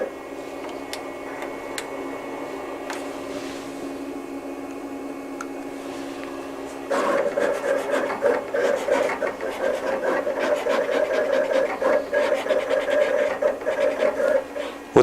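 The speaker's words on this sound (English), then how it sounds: "Now I'm ready to set the machine up to where I want it to start cutting and send over my job." A vinyl cutter slices flock heat transfer film: a steady mechanical hum, then from about seven seconds a louder, busier stream of rapid ticking and whirring as the blade carriage moves, close and continuous with no talk.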